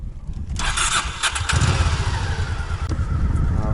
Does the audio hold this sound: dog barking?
no